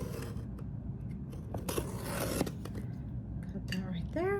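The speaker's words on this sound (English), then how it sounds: "cut that right there" Scissors snip and slice through the tape of a cardboard box containing embroidery and quilting products, a close, scraping cut over steady background hiss, with a brief voice near the end.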